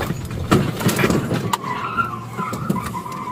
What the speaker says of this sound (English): at which time the white Range Rover takes off